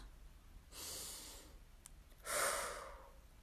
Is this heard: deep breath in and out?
yes